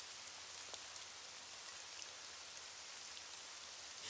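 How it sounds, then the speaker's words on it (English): Steady rain falls throughout, a dense hiss of drops with faint patters on a surface, no voices, in a kids' cartoon. "If we ignore the rain, it might go away quicker."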